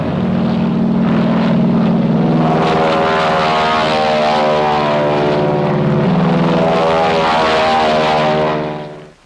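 Black Widow military aircraft from 1945 flying with its propeller engines droning: a loud, steady, close engine roar that holds for the whole stretch and fades away only at the very end.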